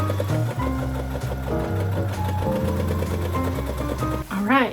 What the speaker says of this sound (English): And now I can sew my side seam following the shape that is this zigzag.